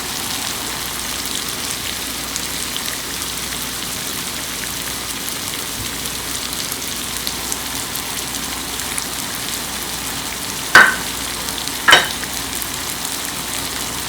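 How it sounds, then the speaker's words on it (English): Cumin seeds sizzle in hot oil with a steady, dense crackle like light rain, and two brief clinks of a utensil near the end. "And my part is enough hot, so I will add cumin seed in it."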